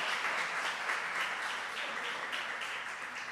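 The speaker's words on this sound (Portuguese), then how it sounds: "uma salva de palmas para a equipe técnica dessa igreja" A church congregation applauds during a 30th anniversary service at a Baptist church in Caieiras, with dense, steady clapping from many hands filling the room at moderate volume.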